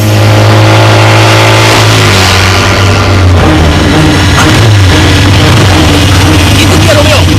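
A motorcycle engine revs loud and close, its pitch climbing and falling, mixed with the rumble of a running vehicle and other engine noise, while voices talk over it.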